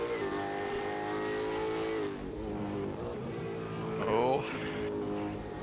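Supercars racing around The Bend Motorsport Park in Assetto Corsa, engines droning loud and steady with shifting pitch, one car revving up sharply near the end, under continuous commentary.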